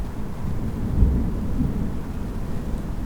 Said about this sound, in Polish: Powoli się zbliża burza i już zaczyna kropić chyba.